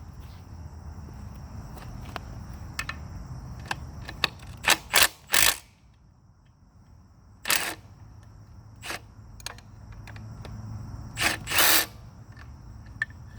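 Engine bolts are removed with a power tool during work on a car engine with hesitation and engine noise, heard as several short, sharp mechanical bursts of whirring and clicking separated by pauses over a quiet background.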